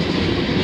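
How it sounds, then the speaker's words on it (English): Via Rail 78 passenger train rolling past at Bayview Junction, a loud, steady rumble of cars and wheels on rail close by, with no talking over it. "I think there's another train here."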